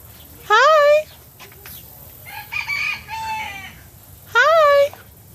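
Chickens at the Gerald Wayne Zoo in Wynnewood, Oklahoma, with a rooster crowing loudly and close twice, at the start and near the end, while people chat quietly in between.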